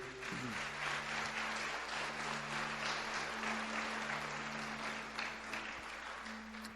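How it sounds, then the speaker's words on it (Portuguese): A church congregation applauds during a Sunday service, a steady, dense wash of many hands clapping that sounds somewhat distant, with a low electrical hum underneath throughout. "Aplauda a palavra de Deus"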